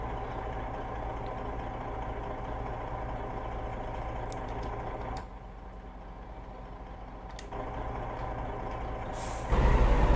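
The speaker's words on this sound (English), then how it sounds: "You like that engine brake?" Truck engine brake in a trucking simulation game set on Idaho roads, a steady, loud low engine drone that dips midway and then returns, ending with a sharp burst of air, with no voices.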